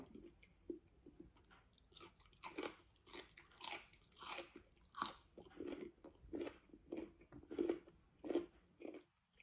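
Crisp wild vegetable stems are bitten and chewed close up, a series of sharp crunches in a steady rhythm of about one each second, quiet and with no talking.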